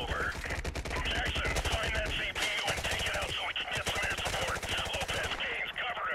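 Rapid, sustained automatic gunfire from a big gun in the video game Call of Duty: Modern Warfare Remastered, loud and close with dense overlapping bursts throughout.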